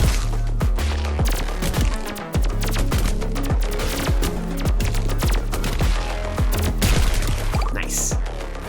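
Rapid gunfire in the survival shooter video game Pathogenic, loud bursts of sharp shots repeating steadily across the whole stretch with brief pauses between volleys.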